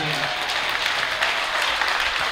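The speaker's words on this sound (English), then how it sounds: "Give her a round of applause." Audience applause for a performer's wife at a live show, a dense steady burst of clapping lasting a couple of seconds.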